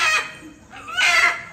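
A rooster at a rural Tamil temple ritual gives two loud, close calls, a short one and then a longer, rising crow, with a quiet pause between them.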